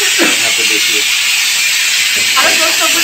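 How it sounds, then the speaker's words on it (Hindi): A kitchen pressure cooker hisses steadily under loud talk throughout, a constant high steamy whistle with brief clattering bursts at the start and near the end. "और कुकर देखिए दोस्तों हमारा मस्त आवाज कर रहा है यहाँ पर"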